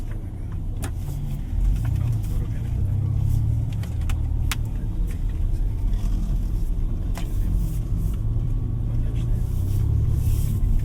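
A 2025 Ford Ranger Raptor pickup with a 3.0 V6 rolls along, heard from inside the cab as a steady low engine and road rumble with occasional faint clicks and rattles.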